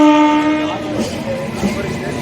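Vande Bharat express train passing a railway station, opening with a loud sustained horn blast that fades into the rumbling, rattling rush of the cars going by close at hand.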